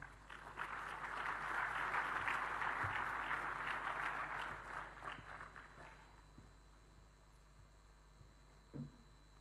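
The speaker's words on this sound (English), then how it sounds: "Kindly give the representative of the UN Secretary General a warm round of applause." Audience applause at a summit in Dakar, Senegal swells and fades over several seconds, a moderately distant patter of many hands tapering into quieter scattered claps and room noise.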